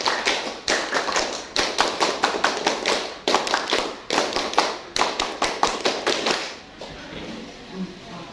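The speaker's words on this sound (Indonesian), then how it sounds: "Kita tepuk pramuka dulu ya." Classroom of students doing the rhythmic Indonesian scout clap, tepuk pramuka: loud, crisp bursts of many hands clapping together in a fast patterned rhythm with short pauses, ending in quieter room murmur.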